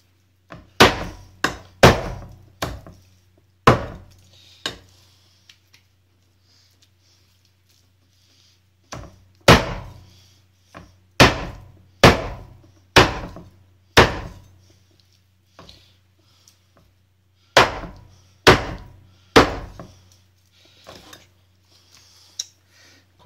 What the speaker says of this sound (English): Quite therapeutic, chopping up carcasses.